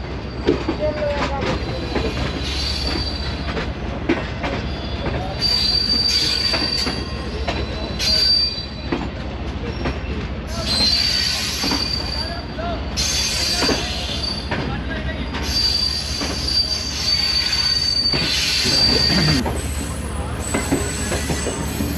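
The Shalimar Express, on its Lahore to Khanewal run, rolls slowly through the Faisalabad station yard: a constant heavy rumble of wheels on rail, with high metallic wheel squeals recurring again and again throughout.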